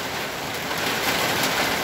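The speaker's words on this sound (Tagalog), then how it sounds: "Bigla na naman pong lumakas ang ulan at hangin." Heavy rain pours steadily with wind, a dense, constant wash of noise that stays loud and even throughout, with no voices.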